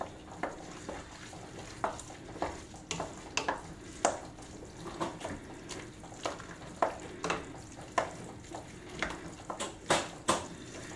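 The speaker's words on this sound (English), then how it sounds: "give it a good stir to mix out all the cheese together" A spoon stirs pasta with Monterey Jack cheese in a pot for a Mexican-style dish, making soft, irregular scraping and clinking taps against the metal at a steady pace, fairly quiet and alone.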